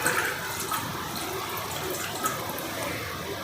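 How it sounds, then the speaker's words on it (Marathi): Paneer being rinsed with clean water in a kitchen, giving a steady running, splashing wash of water that holds at a constant level with no talking. "तर स्वच्छ पाण्याने धुवून घ्यायचं आहे"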